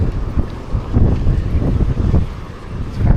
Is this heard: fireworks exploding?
no